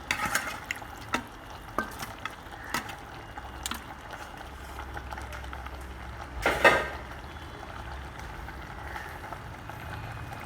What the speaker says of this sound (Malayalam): എന്നിട്ട് നമുക്ക് നല്ലപോലെ ഒന്ന് ഇളക്കി കൊടുക്കാം